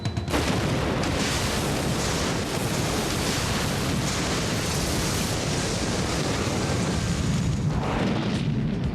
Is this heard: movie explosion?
yes